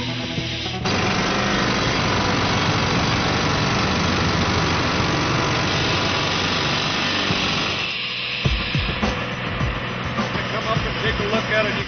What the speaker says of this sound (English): observe at close range air hammer drill demonstration, whereby the drill bit hammered a path into an exposed boulder